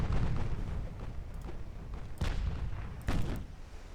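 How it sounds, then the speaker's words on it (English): Bow torpedo tubes launching in Ultimate Admiral: Dreadnoughts against a naval battle backdrop, with several muffled thuds and booms rising over steady low rumbling, two sharper bursts standing out near the end. "There's another torpedo away."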